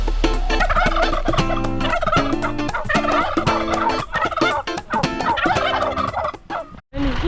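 Several turkeys gobble loudly and close by in rapid, overlapping bursts that carry on with no pause.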